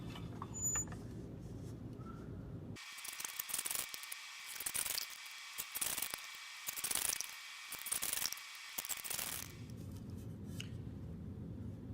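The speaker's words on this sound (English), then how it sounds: "I have my miter box here and a 1/2 inch poplar dowel, And I'm just going to cut 6 of these off at 6 inches" Half-inch poplar dowel being hand sawn in a miter box, a close, rhythmic rasp of about eight back-and-forth strokes lasting several seconds, with quiet room tone before and after.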